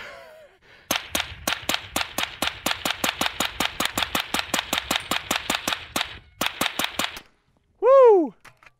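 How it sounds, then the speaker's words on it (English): A suppressed Angstadt Arms UDP-9 pistol emptying a magazine at steel targets on a range, a rapid steady string of crisp muffled shots with metallic rings, a short pause, a few more shots, then a brief whistling tone. "Let's just dump these rounds on the far left target."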